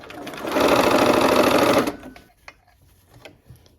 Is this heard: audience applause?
no